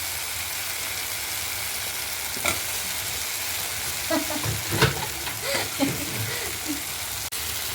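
Vegetables fry in oil for a brinjal and drumstick kara kuzhambu, giving a steady close sizzle broken by several stirring scrapes and clinks.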